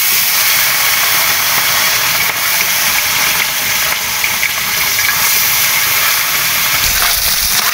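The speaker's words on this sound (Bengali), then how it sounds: "এখন আমি মাছটা ভেজে নিব।" Puti fish frying in hot oil for a curry with eggplant and potato, giving a steady, loud broadband sizzle and hiss that holds without a break, with no one talking over it.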